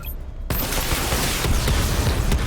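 Missile barrage volley firing in the video game Batman Arkham Knight, a loud, continuous dense roar of launches and blasts after a brief quieter lead-in, with a few sharper bursts standing out.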